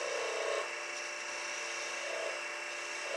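A wood lathe spins up to turn a wooden blank for a ringed kransekake tree, giving a steady, loud whirring drone with slight wavering and no talk.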